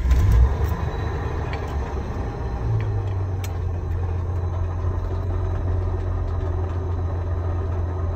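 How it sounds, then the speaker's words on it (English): A 1995 Jeep Cherokee with the 4.0 engine, suspected water pump trouble, starts up and idles as heard from inside the cab, with a loud low rumble, a brief burst at start and a steady drone carrying a faint irregular clank. "You can hear a clanking sound"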